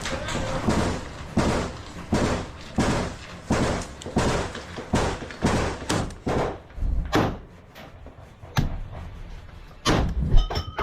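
Close gunfire during fighting in Avdiivka: a dozen or so sharp, loud cracks in an irregular volley as rounds are fired and snap past nearby, with quieter shots trailing off toward the end.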